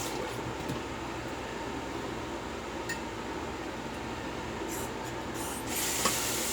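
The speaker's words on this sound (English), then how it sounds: "I was using the cold tap" Cold water runs steadily from a bathroom tap as a continuous broadband hiss, close by, with a faint clink near the end.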